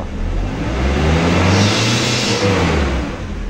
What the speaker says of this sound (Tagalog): Apakan natin kung saan naabot ang RPM